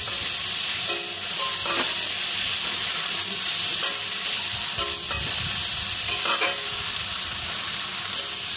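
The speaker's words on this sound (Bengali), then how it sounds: "এবার আমি ভেজে রাখা ঢ্যাঁড়সগুলো দিয়ে দিলাম আলু আর ঢ্যাঁড়স একটুখানি কষিয়ে নেব" Previously fried okra and potatoes are stir-fried with spices in an oiled pan, making a loud, continuous close-up sizzle with rhythmic spatula scrapes and stirring strokes and no voices.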